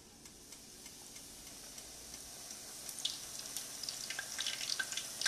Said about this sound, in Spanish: coloco sobre papel servilleta y sigo friendo